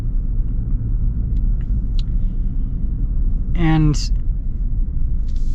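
A Toyota Tacoma Trailhunter pickup truck drives with a steady, loud low rumble of engine and road noise throughout, while a brief voice cuts in near the middle.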